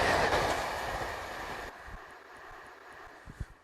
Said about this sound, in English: Wait for the train to pass.